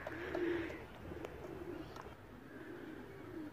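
Soft, low cooing of a flying pigeon repeats a few times over steady background noise, close by and fairly quiet.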